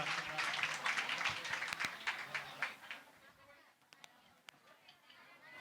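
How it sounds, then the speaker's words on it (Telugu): A congregation claps loudly at a church consecration, a dense burst of applause that fades into scattered claps. A voice speaks over it. "అందరూ గట్టిగా చప్పట్లు కొట్టి తండ్రి గారికి మన యొక్క అభివందనములను"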